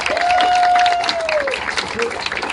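An audience at a remembrance ceremony for an Alzheimer's walk gives a round of applause, a busy patter of clapping mixed with crowd voices and a brief whistle-like tone over it.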